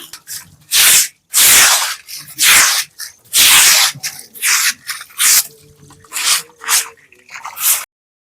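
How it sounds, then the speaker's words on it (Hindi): Water is splashed and scrubbed across an ashram floor during cleaning, loud close bursts of gushing and swishing in an uneven rhythm, separated by short quiet gaps. "पानी से ऐसे ही धुलते हैं अच्छी तरह।"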